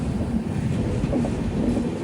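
A TATA Nagar Express, a long-distance Indian train, runs along its rails with a steady, continuous low rumble and faint wagon rattle, heard from inside a 3AC coach, with no voices.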